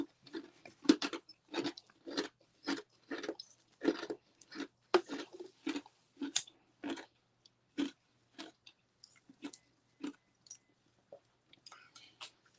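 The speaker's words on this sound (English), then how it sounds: "I know Melissa hear me crunching my ice." Ice crunched between the teeth, a rapid series of sharp, close crunches in an irregular chewing rhythm that slow and space out toward the end, quiet overall.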